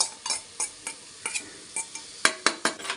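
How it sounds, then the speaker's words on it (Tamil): Mushroom masala with curd stirred in a pan, heard as a spoon scraping and clinking in a steady rhythm of about a dozen close taps, louder toward the end, with no talk. "தயிர் ஊற்றிட்டு கலக்கணும்"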